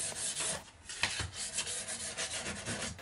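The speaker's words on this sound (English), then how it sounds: "I gave the other parts a light sanding on the edges as the last step before finish." Light hand sanding along the edges of live-edge wood slab parts in a small workshop: a steady, soft, raspy rubbing with slight swells in the strokes, close by and with no voices.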